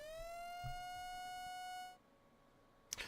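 A warning siren sounds during a severe weather outbreak: a steady electronic wail that holds for about two seconds and then cuts off, leaving a faint background broken by a brief click near the end.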